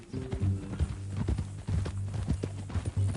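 Horse hooves clip-clop in a steady walking rhythm in the Red Dead Redemption 2 western video game, close and moderately loud, with a low hum and faint sounds underneath.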